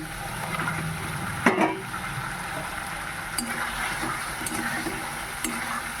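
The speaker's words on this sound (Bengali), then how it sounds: "এবার আমি দিয়ে দিচ্ছি সিদ্ধ করে রাখা ভেজে রাখা ডিম" Boiled eggs, already fried, drop into a pan of cooked-down masala and get stirred, with a steady loud sizzle, a sharp clatter early on and a few lighter scrapes close by.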